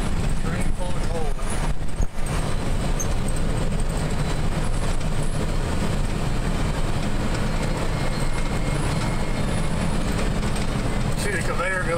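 Coal train railroad cars rolling beneath a mine loading conveyor produce a continuous rumbling, clattering roar, with someone talking over the heavy rail noise.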